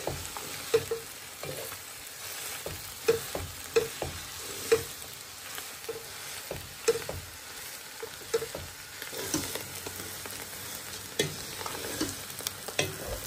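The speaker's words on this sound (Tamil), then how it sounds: "இந்த ஈரலையும் வெங்காயத்தையும் கொஞ்ச நேரம் நல்லா வதங்க விடுவோம்." Onions and clam liver sauté in a pan for a Sri Lankan clam curry: a steady sizzle runs throughout, punctuated every second or so by nearby scraping stirs, and no one talks.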